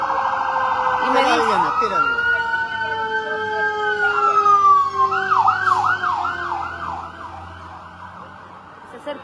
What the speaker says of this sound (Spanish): perdón por la sirena